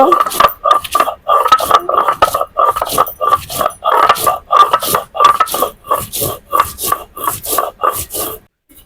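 Chilies being ground on a grinding stone: a long run of about twenty rhythmic, gritty scraping strokes, close and loud, each stroke a sharp rasp followed by a brief pause.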